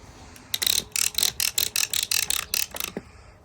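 Freshly oiled ratchet clamp on a sawmill drawing pallet stock tight, about ten quick, evenly spaced metallic clicks up close, sharp and fairly loud with no talking.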